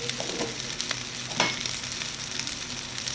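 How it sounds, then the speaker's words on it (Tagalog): Pork adobo sizzles and crackles in a hot pan, a steady frying hiss with occasional louder pops and the scrape of stirring. "So, sabi ni Tita Van, ipiprito daw yan."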